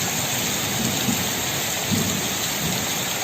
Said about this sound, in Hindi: तो आइए आपको दर्शन कराते हैं गांव की प्रकृति संपन्न बारिश